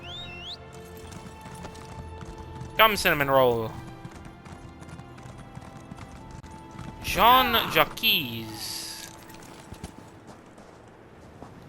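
Hooves clip-clop in The Elder Scrolls Online, with horse neighs and snorts, while a person talks over the sounds in between.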